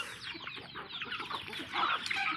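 Several chickens cluck busily and close by, a steady overlapping chatter of clucks with no voices.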